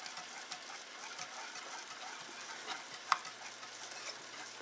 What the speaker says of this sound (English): Want to keep stirring it until it gets completely mixed in.